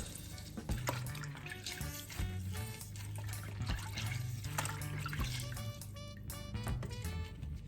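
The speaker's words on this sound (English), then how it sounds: "I am just going to squeeze my lemon in there and make sure that every part is properly washed and clean and ready to cook." Water runs and splashes steadily while a raw whole chicken is rinsed with lemon in a sink, a close, continuous gurgling wash with scattered knocks and handling sounds and no talking.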